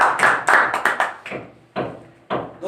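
Loud bursts of audience clapping in several separate waves, each swelling and fading, filling the room at a religious gathering in honour of God.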